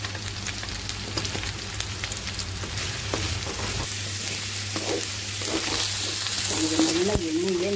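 Green chillies and garlic sauté in hot oil for a Tamil pirandai thuvaiyal, a steady close sizzle and crackle with occasional stirring scrapes throughout, a faint voice briefly near the end.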